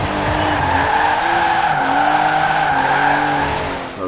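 Race car tyres squeal continuously as the car drifts wide at Greendale Club Circuit in Forza Horizon 4, a loud, sustained screech over the droning engine, with no voices.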